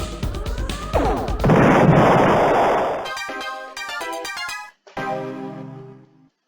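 Cannon fire in the space-combat game The Ur-Quan Masters: a loud, dense, noisy blast sustained for over a second, followed by a run of sharp electronic tones and pulses, all close and without talk.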